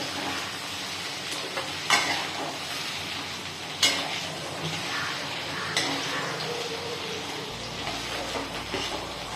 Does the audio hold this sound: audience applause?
no